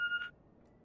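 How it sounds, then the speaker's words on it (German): A telephone in The Walking Dead video game gives a short electronic ring, a single clean tone that fades quickly, faint and alone against quiet background. "War das ein Telefon?"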